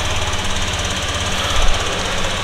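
A TVS Jupiter 125 scooter engine runs steadily close by, a low, even thrum with a faint knocking pulse, one brief surge in the middle, and no talking over it.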